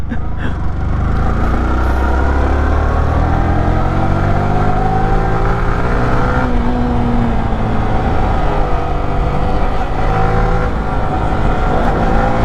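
Yamaha R15 V motorcycle revving hard on a climb in the Ponmudi Hills as the back wheel lifts, a loud, close, sustained engine whine with rising and falling pitch throughout.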